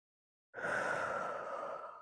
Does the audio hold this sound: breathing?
yes